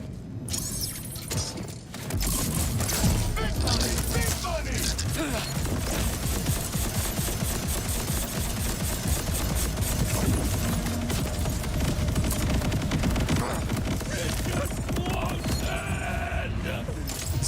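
Heavy, relentless weapon fire in Borderlands from a C4SH build, a dense rattling barrage with mechanical clanks that runs almost nonstop after a brief quiet opening.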